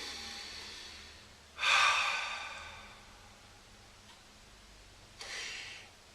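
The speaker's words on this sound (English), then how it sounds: "Focus on your breath a little bit." Quiet meditation breathing: two distinct breaths, each a sudden airy swell that slowly fades, a few seconds apart over a faint, steady room hiss, close by and unaccompanied by speech.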